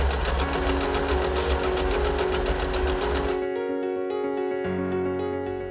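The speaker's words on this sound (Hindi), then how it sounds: "ये एक ऑटोमेटिक जिगजैग सिलाई मशीन है" A Usha Janome Allure automatic zigzag sewing machine runs loudly and steadily at close range for about three and a half seconds, then drops to a fainter mechanical hum with a brief clunk near the end.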